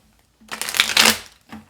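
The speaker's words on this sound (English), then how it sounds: "Last shuffle." A deck of tarot cards is shuffled up close in one quick papery riffle lasting under a second, followed by a short soft tap of the cards settling.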